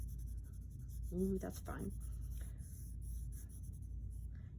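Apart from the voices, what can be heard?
drawing with the side of a 6B pencil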